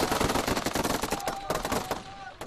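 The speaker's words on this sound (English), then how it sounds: "On the Misrata front line, anti-aircraft guns being used against Gaddafi's army." Anti-aircraft guns fire rapid, rhythmic bursts on the Misrata front line in the Libyan conflict, loud and close, with dense overlapping shots over a few seconds.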